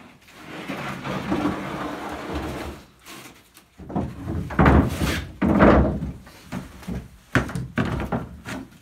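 A homemade wooden drawer in a Toyota Tacoma truck bed slides out and back, giving rumbling wooden rolls and scrapes that end in hollow thunks, with a couple of pauses between the movements.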